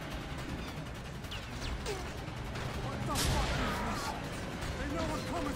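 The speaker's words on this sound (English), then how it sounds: "This shotgun is terrible" A shotgun fires in The Darkness, giving a few muffled blasts and mechanical clatter inside a dense, noisy game soundscape, with someone speaking over it.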